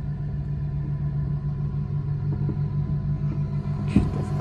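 Tow truck winching a broken-down car up onto its bed, a steady low mechanical rumble and engine drone running throughout with a faint clank near the end, no talking.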